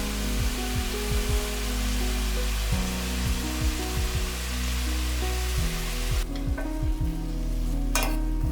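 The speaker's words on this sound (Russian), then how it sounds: "Растапливаю на сковороде кусочек сливочного масла и добавляю весь свой лук." Steady, loud sizzling of onions frying in butter in a pan, with repeated scraping stirs of a utensil close by.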